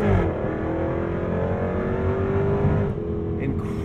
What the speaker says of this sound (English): The powertrain in the P450 is a 5-liter supercharged V8 that makes 444 horsepower and 428 pound-feet of torque